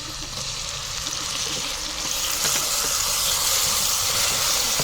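Chopped tomatoes go into a pan of onions and sizzle in a steady, bright hiss that grows louder and fuller about halfway through, alone without talk.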